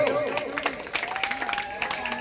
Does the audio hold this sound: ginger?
no